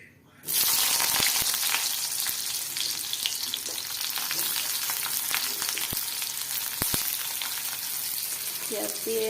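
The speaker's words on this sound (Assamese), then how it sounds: "এইফালে একেখন কেৰাহীতে পিঁয়াজ দি দিম।" Onions sizzle steadily in oil in a kadai after potatoes have been fried in it, a loud continuous frying hiss that starts abruptly with scattered pops and crackles throughout.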